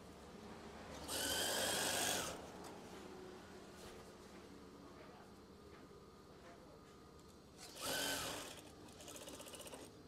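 A sewing machine stitches an eyelet swag curtain in two short bursts, a longer run near the start and a briefer one later, with quiet room tone and faint handling noise between them.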